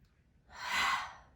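One deep breath drawn in during a neck-tension breathing exercise, a soft airy rush that swells and fades over about a second, close and alone.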